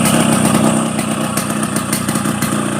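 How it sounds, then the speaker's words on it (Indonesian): A 30-year-old Yamaha RX King two-stroke motorcycle idles at close range at a repair workshop after a light restoration, a loud, rough and steady engine note with a little unevenness and no talk. "Inilah suara motor legend."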